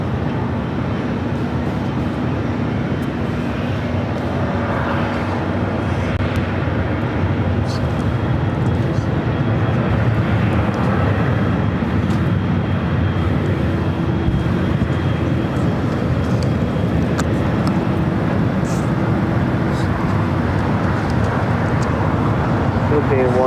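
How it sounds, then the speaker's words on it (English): A Philippine Airlines Boeing 777-300ER jet gives off a continuous, fairly loud engine roar that holds steady throughout, with voices faintly heard over it. "Philippine Airlines Flight 113 heading back to Manila. It's a 777-300ER."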